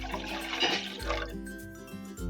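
Water from a cup is poured into a pan to start a thin sugar syrup, giving a short splashing, gurgling pour that trails off into a few faint drips.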